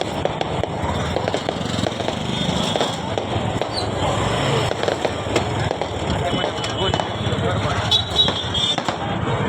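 Firecrackers crackle and pop repeatedly near a vegetable market at Kargil Chowk, likely set off for a wedding procession, a dense string of sharp bursts mixed with street traffic noise and voices.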